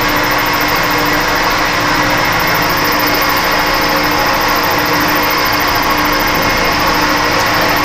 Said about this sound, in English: basically all I need to do is mill it both directions